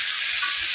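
Tofu stir-frying in a pan with mushroom stock seasoning, a steady bright sizzle that holds evenly and close throughout the short moment, with no voices.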